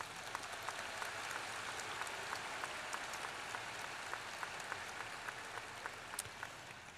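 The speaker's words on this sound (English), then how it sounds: "Let's give them all a round of applause." An audience applauding at a university commencement ceremony, a steady wash of clapping heard faintly and at a distance, with individual claps popping out now and then.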